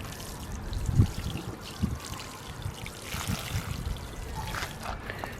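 Water poured from a watering source onto newly planted canna and elephant ear bulbs in soil, a soft continuous trickle and splash with a couple of heavier low thumps early on.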